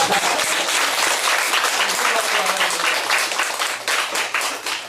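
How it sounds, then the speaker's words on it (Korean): Congregation applauding during a church service, a dense sustained burst of clapping from many hands that carries on for several seconds before easing slightly. "박수 한번 주세요"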